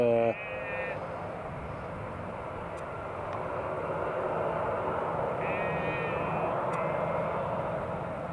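A Sun Express airliner taxis at Newcastle International Airport, its engines a steady broad roar that swells slightly and holds throughout, while someone talks over it and brief tonal beeps come from a nearby radio.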